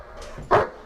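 A security dog gives a single short bark, close and loud, over a low background hum.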